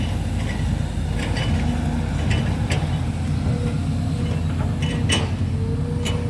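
A SANY SY200C excavator with a four-cylinder Mitsubishi engine idles in a continuous low, loud drone, while sharp metallic creaks and clanks from the machine break in at irregular moments.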